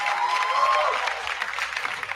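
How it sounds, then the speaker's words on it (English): A studio audience claps in steady, dense applause at a talk-show interview, held at a fairly even level throughout without any voices rising above it. "can we have a big round of applause?"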